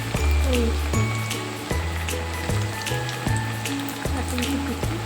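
Black-eyed pea masala vadas frying in oil on low heat, a loud continuous sizzle and crackle with steady bubbling, close and unbroken from start to end.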